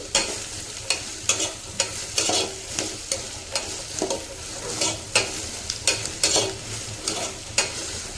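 Bottle gourd curry being stir-fried in a pan: a continuous sizzle broken by regular loud scraping strokes of a spatula, roughly one or two per second, close and alone.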